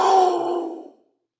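A voice imitates a jaguar with a single breathy, growling roar lasting about a second, loud and close at first, then fading out into silence.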